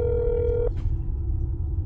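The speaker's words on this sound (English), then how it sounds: "I'm gonna call up his number." A steady ringback tone from a phone call in a video game holds for a moment, then cuts off, leaving a quiet low background hum.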